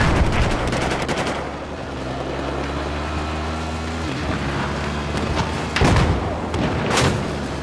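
Loud, dense machine gun fire and explosions in a Battlefield battle, with rumbling engine noise underneath and a few sharper blasts toward the end.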